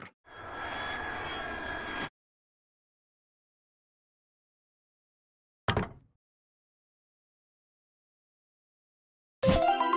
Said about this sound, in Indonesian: pesawat tempur.